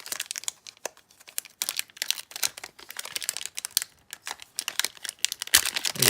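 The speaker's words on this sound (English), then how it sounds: "Pretty tough foil to open overall." A tough foil pack of 1998 Topps Gold Label trading cards is crinkled and torn open up close, with irregular bursts of sharp crackling and ripping that build to a louder tear near the end, with no voices.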